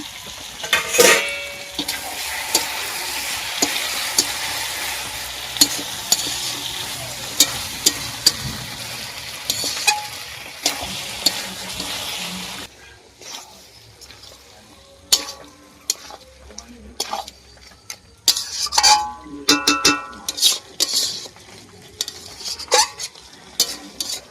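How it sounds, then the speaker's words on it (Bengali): Country chicken curry is stirred in a cooking pot, with a constant sizzle under scraping spoon strokes and clinks against the metal; the sizzle drops away halfway, leaving sharper scrapes and knocks. "একটু নেড়ে নেব।"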